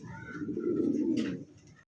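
A pigeon gives a soft, low, throaty coo lasting a couple of seconds, close by and alone.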